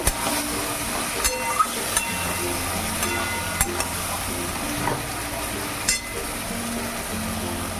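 Ridge gourd being stirred as it fries in a pan: a steady sizzle with occasional sharp scrapes and clinks of a spatula against the metal, close and moderately loud.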